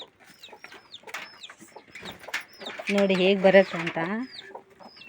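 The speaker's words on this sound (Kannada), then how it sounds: "ಇವು ನಮ್ಮ ಕೋಳಿಗಳು." Household chickens in a village yard, a flock giving sharp repeated clucks and chirpy calls close by, with a longer drawn-out cackle midway while a person speaks over them.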